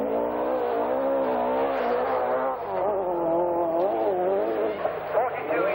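Audi Quattro rally cars on the 1981 RAC Rally, mostly over rough roads, roar and rev continuously at moderate distance, engine pitch rising and falling, with someone narrating over the engines throughout.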